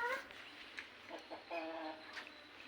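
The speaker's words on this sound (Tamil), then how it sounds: "நம்ம சண்டை சேவல் எப்படி இருக்குன்னு பாருங்கள்" A caged fighting rooster gives a few short, faint clucks and throaty calls against a quiet background.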